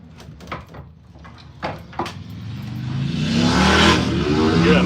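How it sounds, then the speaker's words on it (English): A motorcycle passes close by, its engine noise swelling from faint to loud and holding steady over the last seconds, after a few scattered knocks and clatters early on. "Yeah, motorcycle."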